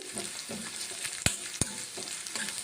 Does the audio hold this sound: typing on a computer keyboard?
no